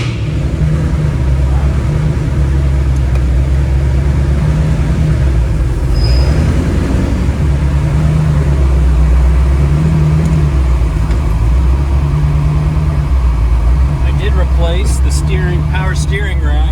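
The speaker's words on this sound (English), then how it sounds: "let's fire her up" A Lamborghini Diablo engine runs loud and close at a steady, deep idle, holding a rumbling drone with slight swells throughout, with a few faint clicks near the end.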